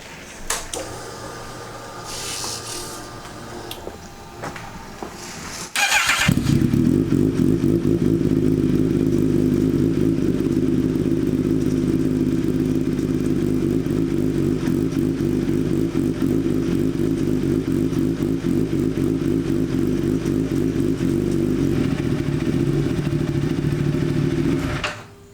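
Kawasaki ZX-10R track bike engine turning over, then catching and settling into a loud, steady close idle with mechanical clatter and rattle that runs uninterrupted to the end.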